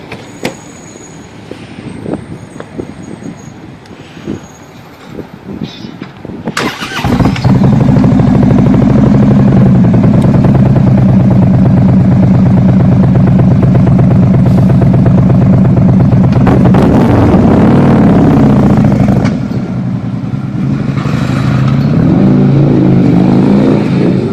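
A vehicle engine roaring loudly through aftermarket CFR exhaust pipes, starting after a quieter stretch with faint background sounds, then a sustained heavy deep drone that holds steady, rises in pitch briefly, and continues close and powerful.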